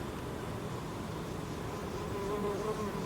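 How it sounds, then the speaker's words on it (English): Honey bees swarm around a heavy, honey-filled hive frame, a close, continuous buzzing drone with a faint rising hum near the end and no talking. "A lot of bees."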